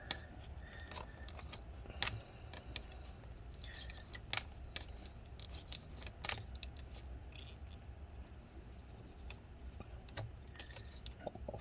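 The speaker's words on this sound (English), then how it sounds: "be very careful when cutting the battery adhesive near the trackpad" Battery adhesive is cut during a battery repair on a 13-inch Early 2015 MacBook Pro A1502, giving quiet scattered scraping and snipping clicks in irregular bursts, close up with no talking.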